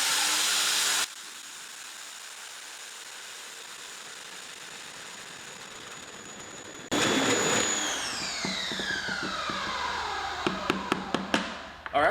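After a short loud burst and a quieter lull, a Westinghouse EPX3050 electric pressure washer with a 15 degree nozzle kicks on, its motor whine rising into a hard steady spray, and sharp clicks follow at the end.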